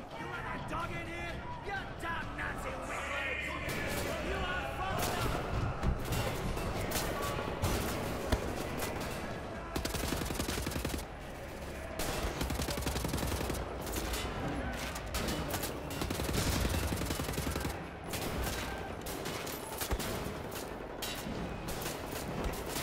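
Sustained gunfire and fusillade in the video game Wolfenstein The New Order, with dense overlapping shots, bursts and clatter running loud and continuous under a busy game soundtrack, with crowd-like background noise throughout.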